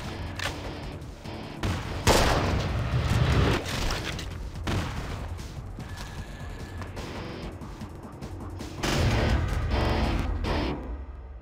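Covering gunfire in the UNKILLED zombie shooter game on Android: repeated loud bursts of rapid shots and booming impacts, close and intense, with short pauses between volleys and game sounds around them.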